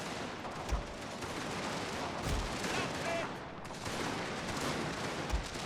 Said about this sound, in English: Now they're returning fire to us.